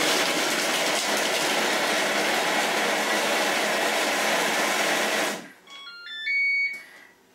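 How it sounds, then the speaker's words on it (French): Kitchen food processor running at speed five for five seconds, finely chopping shallots and onions; a loud, steady whirring grind that stops abruptly, followed by faint beeps from the machine. "On va programmer 5 secondes à vitesse 5, ce qui va broyer finement les échalotes et les oignons."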